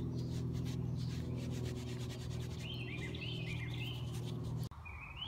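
Borax being rubbed by hand into a chipmunk hide, a soft steady scratchy rubbing outdoors under a low hum, with birds chirping in the background until the rubbing stops abruptly near the end.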